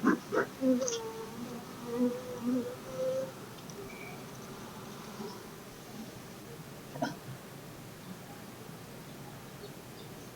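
Honeybees buzz faintly around an open backyard hive during an inspection in Colorado, a thin drifting hum with brief louder passes of individual bees near the start and a short spike later.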